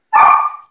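A German Shepherd dog lets out a single loud, close bark, sharp at onset and tailing off over about half a second, with no talk.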